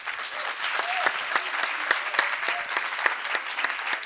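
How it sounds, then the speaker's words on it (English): Audience applause at a young entrepreneurs' program, a steady round of clapping from a modest crowd, moderately loud and continuous, with faint voices mixed in. "can we give Grant a round of applause?"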